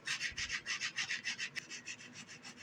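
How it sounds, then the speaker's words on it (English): A Scotch-Brite pad soaked in acetone scrubs glue off the frame of a McIntosh 8-inch midbass speaker, making quick, even back-and-forth scratchy strokes, about a dozen in a steady rhythm, close up with no talking. "I'm just using a piece of Scotch-Brite. That'll kind of smooth out the glue."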